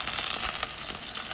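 Pork browning in a pot for kimchi stew sizzles steadily and loudly, a dense continuous crackle with no break.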